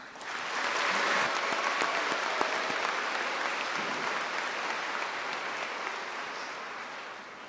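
Graduation audience at the Miami Trace Class of 2024 commencement breaks into applause, swelling within a second into a broad, steady clapping from a large crowd that holds for several seconds and tapers slightly.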